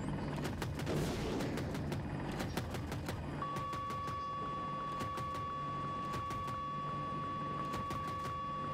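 Video game gunfire from an AH-64 Apache battle rattles in repeated short bursts, with a heavy volley at the start and then spaced clusters of rapid shots over a steady engine hum and a thin electronic tone.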